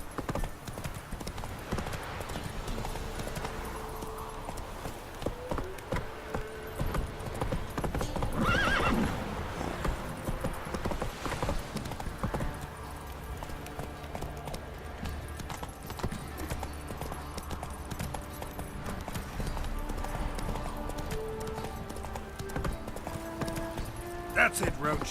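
Geralt's horse Roach in The Witcher 3: Wild Hunt, hooves clip-clopping in a fast, steady galloping rhythm with a loud neigh partway through, game music and spoken voices running alongside.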